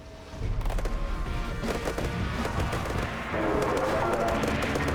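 Rapid gunfire from newly designed long-range guns in the video game Badlands Crew: dense, overlapping bursts of shots and impacts fill the whole stretch, loud and continuous, with a slight lift in intensity toward the end.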